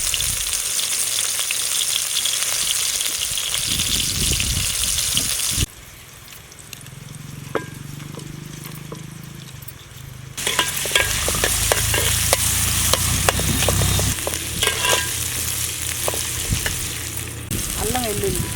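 Onion and green chili pieces frying in oil, a loud continuous sizzle broken by stirring and scraping, with a quieter stretch before the hiss surges back up.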